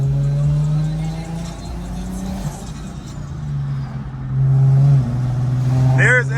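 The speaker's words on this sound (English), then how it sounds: "Oh my God, that turbo though" A car's turbocharged engine pulls hard while accelerating onto a Texas highway exit in heavy traffic, a steady loud drone with rising tone and a faint whistle near the end, under continuous cabin talk.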